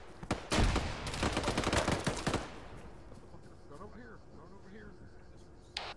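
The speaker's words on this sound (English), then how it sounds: "you got a PKM gunner pinning us down." A PKM machine gun fires a loud, rapid burst in a squad-based tactical shooter game, then breaks off as people start talking over quieter background noise.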